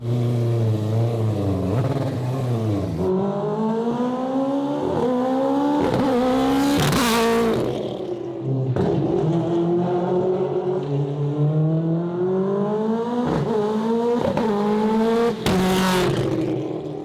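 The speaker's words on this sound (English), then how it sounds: "You can hear the car stutter a little bit, and we'll tighten that up." An AWD four-rotor Mazda RX-7 engine revving up repeatedly, each climb cut by a sharp stuttering break as it flat shifts, loud and close.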